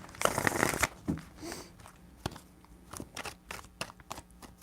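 Tarot cards are shuffled by hand, a loud burst of riffling flutter followed by scattered soft taps and slides of the deck, close to the microphone with no talking.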